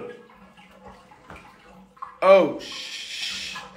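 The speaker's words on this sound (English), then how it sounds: "I hate that sound when the water is draining" Water drains from a bathtub, starting partway through as a loud, steady gurgling rush that continues to the end, with a voice heard earlier.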